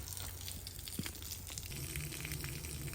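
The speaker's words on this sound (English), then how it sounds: "now you can see the water, the sound change, and water moving faster" Water rushing through a home heating boiler's pipes while it is purged, a faint steady gurgling flow that picks up speed, close by and alone.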